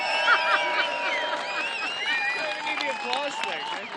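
A crowd at a race arrival stage in The Hague cheers, whoops and claps as a sailing team comes in, a lively mix of high shouts and whistles over ongoing applause.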